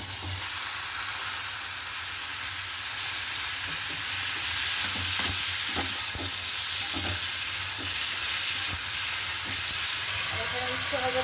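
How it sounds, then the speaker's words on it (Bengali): Bottle gourd pieces fry in an oil-filled pan tempered with radhuni seeds, giving off a loud, continuous sizzle with soft knocks from a turner flipping and stirring the pieces. "দেখো সুন্দর ভাজা হচ্ছে এবং সুন্দর ভাজা হয়েছে"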